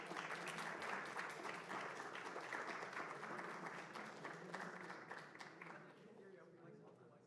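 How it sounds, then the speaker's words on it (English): An audience applauds finalists at a programming tournament final, a burst of many hands clapping that stays fairly steady and then slowly thins and fades toward the end. "give them a round of applause for their incredible performance."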